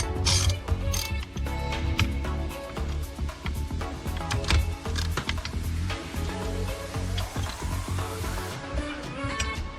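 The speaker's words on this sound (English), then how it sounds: "now we're gonna secure this by placing a nut and a washer on this other side" Rapid ratchet clicking and metallic clatter as a nut and washer are tightened to secure a shifter cable on a 2G DSM short shifter install, busy and close with frequent short bursts.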